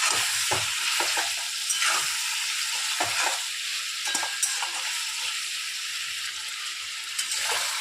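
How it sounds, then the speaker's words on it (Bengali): Chicken fries in a pan with ginger-garlic paste for chicken kosha, a dense sizzle running throughout, broken by repeated scraping stirs and knocks of a spatula close by. "একটুক্ষণ ধরে ভাজবো, কারণ আদা রসুনের কাঁচা গন্ধ না যাওয়া অবধি অন্য মশলা আমরা দেব না"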